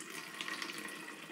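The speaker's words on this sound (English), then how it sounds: "So let's just fill it up with water." Tap water running into a plastic spray bottle, a steady faint hiss and gurgle of filling liquid that continues evenly, with no talking.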